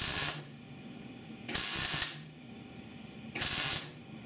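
A spot welder tacks holes in the dash of a 1966 Ford F100, three short sharp hissing bursts at even intervals with a faint hum between them.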